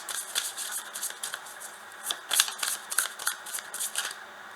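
Tarot cards are shuffled close up before a reading, a run of crisp riffling and flicking bursts that rise and fall in quick irregular rhythm. No other sound accompanies them.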